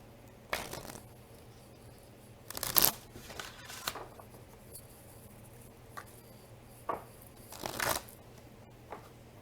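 Oracle cards being shuffled and handled in an intermittent series of soft, close papery riffles and flicks with quiet pauses between, no talking.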